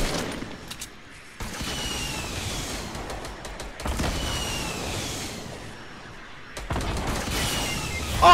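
Sniper rifle fire in the battle royale game Fortnite, bursts of sharp gunshots in several dense clusters, loud and close, with no talking.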